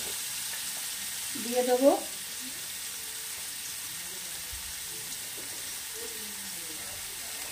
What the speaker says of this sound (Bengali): আমি ছানাটা এভাবে মাখিয়ে নেব, একটু ভাজা ভাজা করে নেব